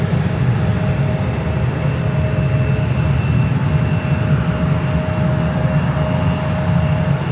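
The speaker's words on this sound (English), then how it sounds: "Delta 757-300, taking off runway 1 right." A Delta Boeing 757-300 takes off from runway 1 right at San Francisco airport, its jet engines making a loud, steady, broadband roar that holds unbroken from start to finish.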